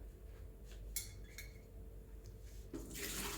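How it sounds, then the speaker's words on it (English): Water runs steadily from the hot water tap of a Breville Barista Express BES870 espresso machine in a hiss, with a few light clinks and knocks of cups or utensils nearby. "You also have a hot water tap here"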